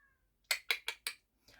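A small cat meows indoors, four close, clear cries in quick succession followed by a softer fifth one, with no talking over them.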